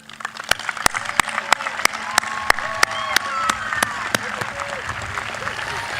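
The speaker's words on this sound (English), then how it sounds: "Let's give them a round of applause." Audience applause at a 2025 Piqua High School graduation ceremony: sharp, evenly spaced claps ring out clearly across the hall, with a voice talking underneath.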